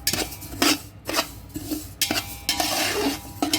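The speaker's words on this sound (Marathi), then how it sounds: "या पद्धतीने पण तीळ पण भाजून घेऊ आपण" Sesame seeds and a little poppy seed being dry-roasted in a pan for homemade red chilli masala, a spoon repeatedly scraping and clinking against the metal in an irregular stirring rhythm, close and fairly quiet.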